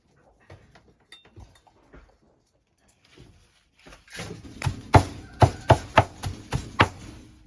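Chayote leaves being cut into small pieces for chicken feed: a few light scattered taps at first, then a run of about eight sharp, evenly spaced knife chops on a board, close and clear.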